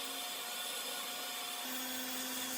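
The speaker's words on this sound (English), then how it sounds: "I ended up moving to the random orbit sander pretty quickly" A random orbit sander works over softwood with medium-to-high grit sandpaper, giving a steady, close electric whine with a constant droning hum and no breaks.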